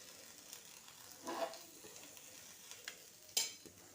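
Pav bhaji masala with butter in a pan, stirred in a few soft scraping strokes over a faint, quiet sizzle, with two brief louder clinks of the spoon against the pan.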